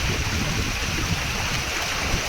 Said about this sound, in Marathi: हा रस्ता पोखरला आतून घुसतोय पाणी